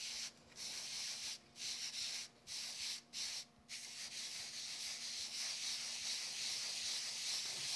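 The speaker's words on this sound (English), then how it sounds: "I'm going to use a piece of Rubit Scrubit Pad, and I'm just going to lightly work these into place" A Rubit Scrubit pad rubs lightly in circles over a sticky-backed craft piece, giving a steady, close, soft scratchy hiss with several brief pauses early on, then continuous rubbing alone.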